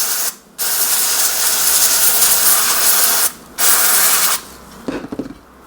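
Water spray rinses cleaned control knobs from a NuTone Model 2081 stereo remote intercom station, heard as two loud, steady hissing bursts separated by a short pause, then a few faint clicks and drips.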